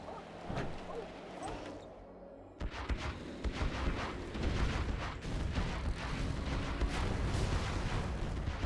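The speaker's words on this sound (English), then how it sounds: "Supertech comes in, detonates the explosive barrels" Explosive barrels detonate in a real-time strategy game battle, a loud blast kicking off dense, rumbling combat noise of gunfire and booms that carries on continuously, with a commentator's voice running over it.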